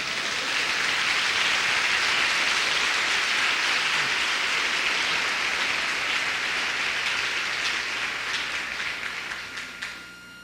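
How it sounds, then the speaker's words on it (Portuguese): Church congregation applauding during a sermon, a dense sustained wash of many hands clapping like heavy rain that thins and fades out near the end. "dê um aplauso ao Senhor"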